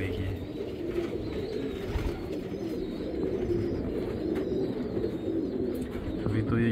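Young pigeons cooing at close range, soft repeated low coos over a murmur of rustling and background voices, steady throughout.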